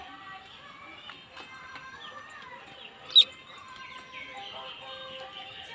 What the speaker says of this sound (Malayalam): കോഴിക്കുട്ടി